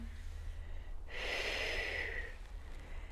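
A single long exhale during a floor stretching exercise, a breathy rush of air lasting just over a second, close and fairly quiet in an otherwise calm room.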